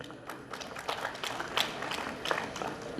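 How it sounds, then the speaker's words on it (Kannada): Audience at a literary conference clapping, a faint, fairly short burst of applause with scattered individual claps from a moderate distance. "ಚಪ್ಪಾಳೆ ಹೊಡೆದ್ರಿ"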